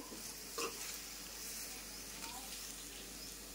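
Onion chutney being stirred in a pan after tempering is added, a soft steady sizzle with faint scraping of the spoon, one brief louder clatter near the start, no talking.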